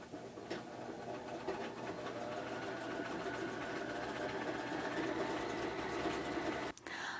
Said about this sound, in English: So let's get started in sewing our piece together.